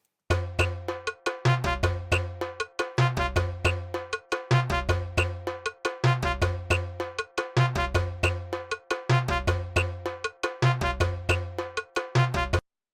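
A soca percussion loop repeats steadily, with a bright cowbell and a whistle playing together over a bass-heavy beat. It is loud and continuous, with no voices.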